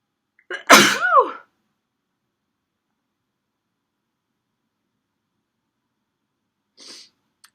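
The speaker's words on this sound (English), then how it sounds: "I feel like I'm gonna sneeze again." A single loud, close sneeze bursts out near the start and is followed by a long stretch of silence, then a brief faint rustle near the end.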